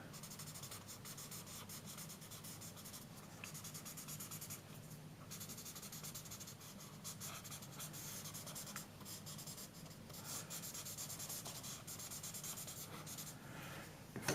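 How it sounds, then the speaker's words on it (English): A blending stump rubs and shades graphite on a pencil drawing of mountains, giving a steady, soft scratchy rubbing that runs close and continuous with no talk. "Go back in with the blending stump again and sort of shading that side there."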